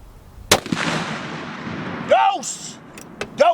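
A Noreen Ultra Long Range .50 BMG rifle fires a single loud, sharp shot that booms and rolls off into a long decaying echo, with faint voices and small noises after it.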